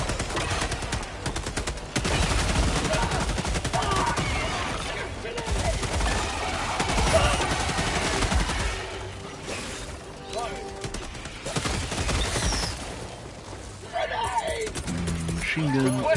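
Heavy machine gun fire in Helldivers 2, with long sustained bursts, loud crashes and impacts, mixing with game effects and player voice chat over the top.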